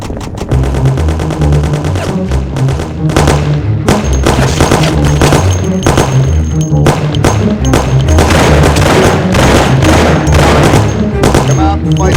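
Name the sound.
gunfire in a shootout, from the video game Mafia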